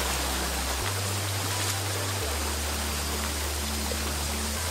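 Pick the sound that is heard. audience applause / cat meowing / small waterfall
small waterfall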